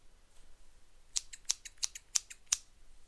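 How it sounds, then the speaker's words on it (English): Scissors snip hair in a close, quiet haircut roleplay: six crisp metallic snips in a fairly even rhythm after a second of near silence, with no talking. "just relax while I cut your hair"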